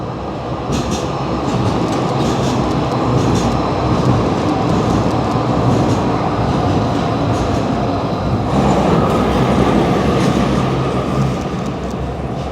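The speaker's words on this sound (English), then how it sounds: "I see a red train is coming" A red train rolls past in downtown Calgary, its loud continuous rumble and rattling wheels filling the scene close by, with the tone shifting slightly partway through as the cars keep passing.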